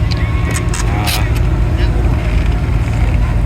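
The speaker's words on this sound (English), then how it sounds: "So, front engine, 12-cylinder, 4 cam. Yeah, it's pretty darn nice. The engine sounds amazing." An early front-engine, 12-cylinder, four-cam Ferrari runs steadily and loudly nearby at a classic Ferrari gathering in Boca Raton, its low, dense drone continuous throughout, with faint voices in the background.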